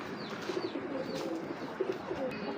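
Racing homer pigeons cooing in a loft, soft low repeated coos layered over a murmur of several birds, with faint chirps above.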